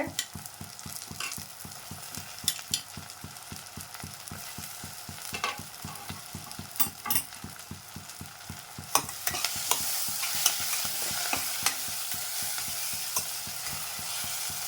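Tomatoes fry with mint and coriander leaves as a spoon scrapes and stirs the pan in a steady rhythm, close and clear, while a sizzle swells louder partway through.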